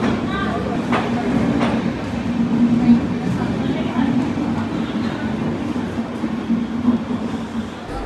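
An Indian passenger train, the Shipra Express, pulls away from a station, heard from on board as a steady low rumble with a few clanks, while people talk nearby.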